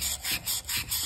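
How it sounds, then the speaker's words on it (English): Sandpaper or emery cloth rubbed by hand over a trailer wheel bearing race, heard as four or five quick, close back-and-forth scraping strokes in a steady rhythm with no talking. "And I got a little bit of sandpaper here,"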